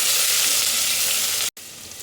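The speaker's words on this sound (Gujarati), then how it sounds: "બરાબર સાતળી લઈશું." Ginger, chili and garlic paste sizzles loudly in hot oil with cumin, dried red chilies and asafoetida, a dense steady frying hiss close by that briefly cuts out near the end before resuming.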